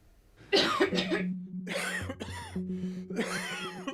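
A series of harsh, wet coughs in quick bursts, close and fairly loud, with short pauses between fits.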